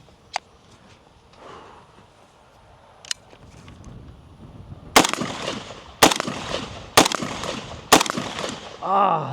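An FB Radom Mini Beryl rifle fires four loud, sharp single shots about a second apart, each ringing out with a short echo, after a quiet stretch with a couple of faint clicks.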